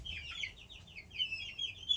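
Black Australorp hen clucking close by in a backyard flock, a run of soft, repeated clucks and chirpy calls heard alone without talk.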